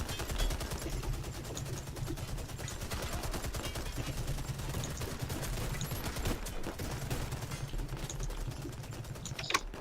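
Rapid automatic gunfire in the video game Warface, a dense, continuous rattle of shots that runs almost unbroken and stays loud and close throughout.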